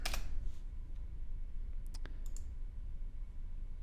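A few sparse, faint clicks of typing on a computer keyboard sound close by over a quiet, low hum.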